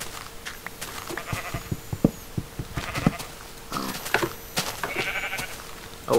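Pig being lured into a pen in Minecraft, short grunting and squealing calls scattered through the game's sounds, mixed with clicks and footsteps, fairly faint.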